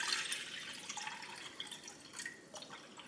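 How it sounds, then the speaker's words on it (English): Water is poured into a pan while cooking chicken for a red mole dish: a light, trickling splash with dripping and bubbling tones that is brightest at first and then eases off, with no voices. "adding some water into this pan"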